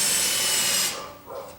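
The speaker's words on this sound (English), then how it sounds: "Got to countersink these because I'm using countersunk screws." A power drill whirs steadily as it countersinks a screw hole in soft timber, then winds down and stops, followed by a brief scrape.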